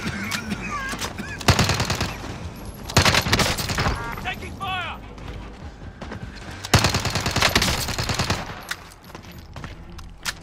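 Bursts of automatic and single-shot gunfire crackle through a battle-royale match with a gas zone closing in. The shots come in dense volleys with short gaps, mixed with game effects and a voice speaking over them.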